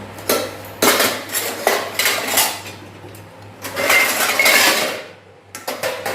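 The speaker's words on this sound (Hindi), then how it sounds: "अभी तो बर्तन जमाने के रहे हैं," Steel dishes and utensils clatter and clink in repeated bursts as they are stacked and put away in a home kitchen, loud and close, with a steady low hum underneath.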